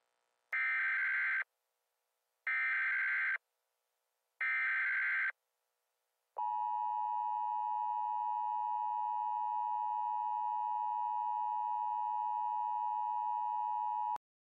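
Emergency alert system attention tone in a broadcast scenario: three short, loud bursts of harsh buzzing data tone, then a steady, sustained high two-tone alert whine held for about eight seconds before cutting off.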